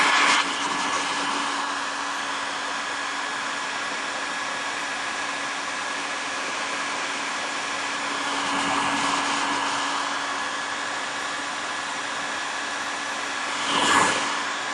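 A hair dryer blows steadily to dry paint on a traditional figure painting, a loud continuous airy whoosh held for the whole stretch, swelling slightly as it is moved, with no talking.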